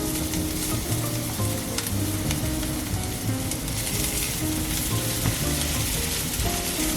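Oil sizzles and crackles steadily in a stainless steel pan, a dense continuous frying hiss close up, with faint clinks of utensils under it and no talking.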